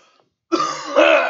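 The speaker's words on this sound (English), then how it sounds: "So I'm gonna cough, and then we're gonna start." A single throaty cough and throat clearing from a man, heard close and loud right after a brief moment of silence.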